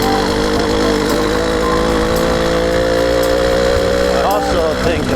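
An 80cc motorized bicycle engine, the "Purple Nightmare," runs steadily with a loud, buzzing two-stroke drone and a slight pitch rise near the end.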